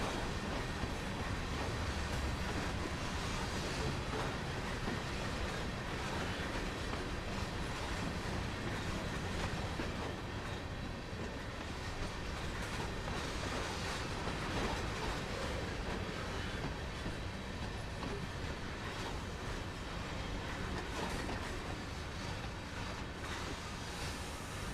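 A CSX GP38-2 locomotive runs in the Train Sim World video game, a steady, dense rumble with rolling wheel clatter that holds constant throughout, no voices over it.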